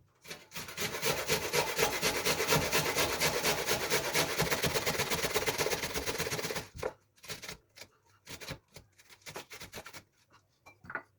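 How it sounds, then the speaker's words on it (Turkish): Onions are grated by hand on a grater, a steady fast rasping scrape running continuously for several seconds, then breaking into short separate strokes with pauses, close and clear. "iki baş soğanımızı alıyoruz ve bunları rendeliyoruz"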